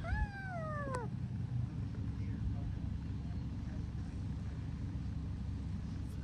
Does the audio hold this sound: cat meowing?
yes